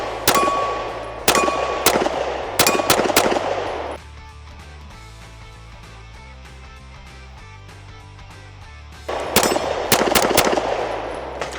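Canik MC9 Prime pistol fired with iron sights at a range: a fast string of loud, sharp gunshots with ringing metallic clangs, a pause of several seconds, then another rapid burst of shots.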